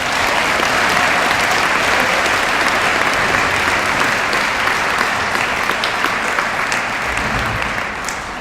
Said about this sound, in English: Can I please get a round of applause for all our conference All-Stars?